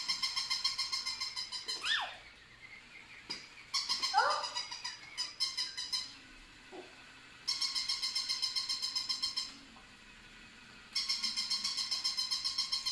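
A dog whimpers and yips in a few short high-pitched bursts near the start, with steady chirping bird-like tones recurring loudly in the background and no talk.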